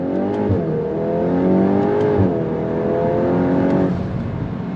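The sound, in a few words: 2026 VW Golf R Mk 8.5 accelerating on throttle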